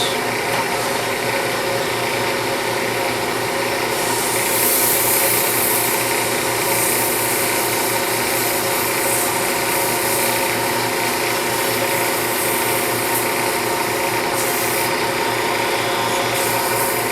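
Sandpaper of 240 grit rubs steadily over a turned plywood piece, giving a continuous, close, even rasping hiss with no pauses for the whole stretch.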